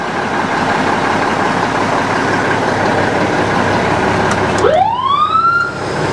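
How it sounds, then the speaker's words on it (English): An electronic vehicle siren starts up and climbs sharply in a rising wail near the end, heard over a loud, steady background of road and engine rumble. "No, that's the mechanical one. This is the electronic one."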